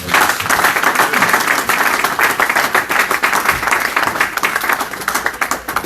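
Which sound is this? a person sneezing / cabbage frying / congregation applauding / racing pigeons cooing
congregation applauding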